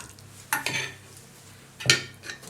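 Baked feta pasta stirred in a baking dish, two short clattering scrapes of a utensil against the dish with quiet gaps between them, close by.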